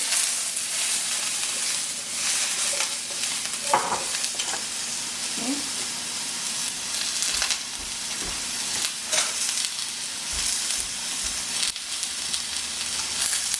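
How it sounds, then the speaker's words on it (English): Beef sautéing on high heat for a stir fry gives a loud, steady sizzle and crackle, with occasional scrapes and stirs, and no talking. "You want to saute this on high."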